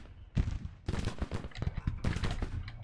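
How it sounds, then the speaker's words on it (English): Cannon fire in the Civil War strategy game Grand Tactician booms in a quick irregular volley of heavy blasts, distant and fairly faint, continuing for about three seconds. "Let's hope the cannons can do a lot of damage."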